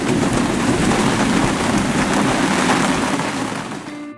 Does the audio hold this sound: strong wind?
yes